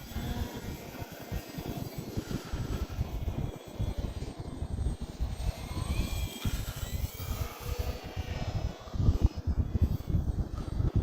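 A Hobbyzone Carbon Cub S 2 1.3 m RC airplane flies overhead doing rolls; its small motor buzzes and surges unevenly at moderate distance, mixed with gusty outdoor noise.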